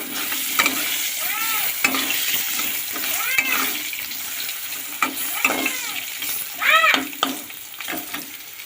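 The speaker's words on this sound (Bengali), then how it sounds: "তারপরে আমি প্রথমে আলুগুলোকে ভালো করে লাল করে ভেজে" Potatoes frying in oil with cumin, dried chilli, bay leaf and cinnamon in a pan, with scraping stirs and clinks of a utensil over a steady sizzle.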